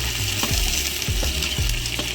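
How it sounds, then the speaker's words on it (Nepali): Diced potatoes and beans fry in a hot pan until browned, giving a loud, steady sizzle broken by several scraping stirs of the spoon, with no talking. "यसलाई एकछिन भुट्ने ब्राउन कलरको हुँदासम्म"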